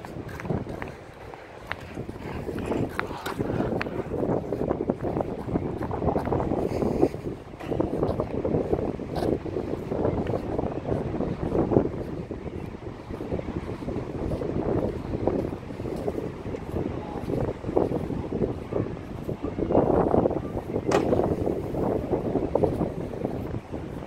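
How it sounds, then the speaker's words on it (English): Gusty wind buffeting the microphone in uneven surges, rumbling and rising in bursts, with faint background movement and no clear speech. "It's gonna get windy here, so enjoy that too."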